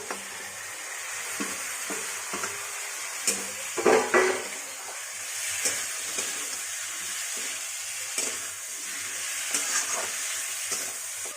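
Chicken pieces hiss in hot oil with turmeric while a utensil scrapes and stirs them around the pan. The steady close sizzle carries a run of regular scraping strokes and one louder clatter partway through.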